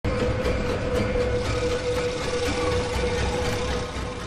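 A steady, continuous rumble of a train rolling along rails, with a faint sustained tonal whine over the low droning noise.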